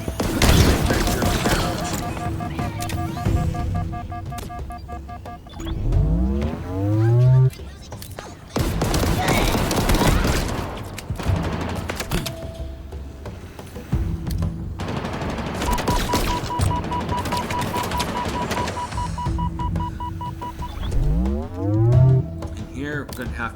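Guns fire in the Halo Infinite video game, with sustained bursts of automatic fire, whooshing sweeps and booming impacts layered over game music and effects, while a voice talks over the action.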